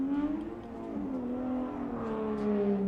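A Formula Drift Pro 2 car revs while warming up its Achilles tires in Texas. Its engine note climbs and falls in uneven surges and holds a loud, buzzy tone throughout, with no voices over it.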